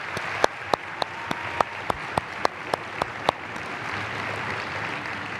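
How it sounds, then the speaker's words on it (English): A conference audience at a CEO's address gives a round of applause, a steady crowd clapping bed carrying loud individual claps that stand out in a fairly regular rhythm and then fade back into the general applause. "So give yourself a big round of applause."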